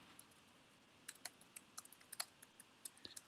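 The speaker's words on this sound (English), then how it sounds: "Are you typing in Twitch chat?" Quiet typing on a computer keyboard during an online collegiate bridge match: scattered soft key clicks, some in quick bursts, with brief pauses between them.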